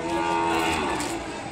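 A young calf at the Kodada livestock market in Telangana lets out a loud, sustained moo, near and unbroken for about a second and a half.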